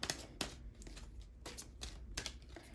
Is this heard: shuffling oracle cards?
yes